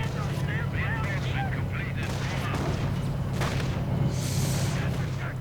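A strafing run by attacking aircraft in a World War II strategy game, with dense gunfire, cannon bursts and booming explosions over a continuous battle din, loud and close.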